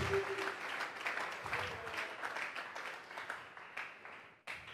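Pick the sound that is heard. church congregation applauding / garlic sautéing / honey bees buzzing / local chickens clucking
church congregation applauding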